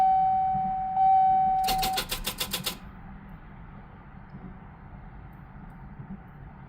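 A classic car's starter cranks in a short, rapid burst of clicking turns for about a second and then stops without the engine catching, after a steady electrical whine; a quiet hum remains afterward.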